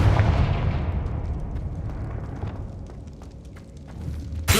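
A Confringo blasting spell going off in Hogwarts Legacy: a loud explosive burst that decays into a long rumbling tail, with scattered crackles and a sharp new blast at the very end.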